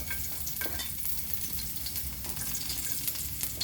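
Garlic frying in a pan for ginataang bagoong, a steady dense sizzle with faint stirring scrapes running throughout, close and even in level.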